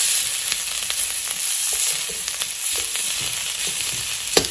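Pork frying in a pan with its own fat and a little mustard oil for an Assamese pork curry, giving a loud, even sizzle with scattered spatters and a sharp clink near the end, no speech.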